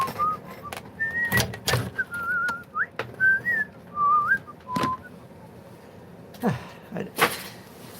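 A person whistles a melody in short tuneful phrases, with several sharp knocks and clatters from nearby objects between the notes.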